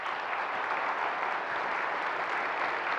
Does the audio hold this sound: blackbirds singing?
no